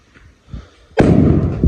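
A firecracker goes off: quiet rustling and a soft thump, then a sudden loud burst that becomes a sustained roaring crackle and hiss lasting to the end.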